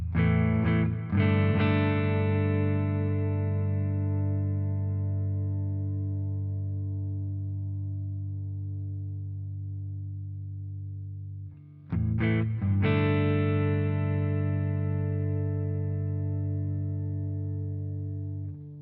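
An electric guitar played through a Quad Cortex preset with amp, cab and spring reverb. Two sustained chords ring out loud and distorted, each decaying slowly with a reverb wash, the second struck after a short gap.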